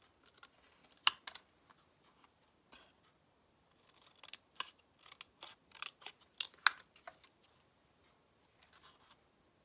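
Scissors cutting a stencil freehand, with quiet, irregular crisp snips and small clusters of cuts separated by near-silence, recorded close.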